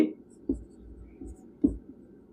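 Handwriting an example with a pen on paper during a Bengali grammar lesson: a few faint, soft scratchy strokes with small taps between them, close and quiet.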